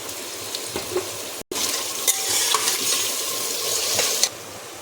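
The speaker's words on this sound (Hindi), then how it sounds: "अब इसमें डाल देंगे प्याज।" Onions sizzle and are stirred in a pot for a mutton stew, with a continuous loud frying hiss, scraping stirs and a brief cut near the start.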